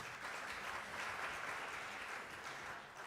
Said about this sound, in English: Yeah, clap for her.